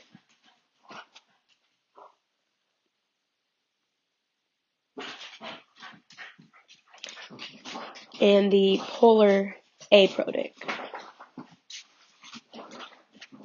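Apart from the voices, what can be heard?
dog whimpering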